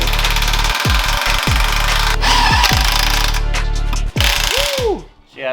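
An impact wrench on swivel chrome extensions rattles in loud, close bursts of hammering with brief pauses between them, near an engine being rebuilt.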